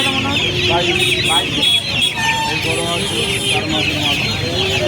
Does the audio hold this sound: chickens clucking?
yes